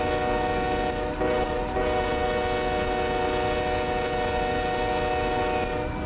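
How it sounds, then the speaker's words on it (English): An autorack freight train passes on the line from Waycross to Jacksonville, giving a loud, close, sustained horn blast of layered steady tones over a constant rail rumble, with no voices. "Nice. It's a rack train."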